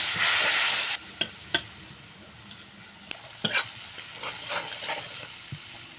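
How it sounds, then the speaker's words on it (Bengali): Ground turmeric, chili and cumin sauté with a splash of water in a pan: a loud hissing burst at first, then a quieter simmer with scattered clicks and scrapes of stirring, and no voices. "এখন অল্প জল দিয়ে মশলা ভালো করে কষিয়ে নেব।"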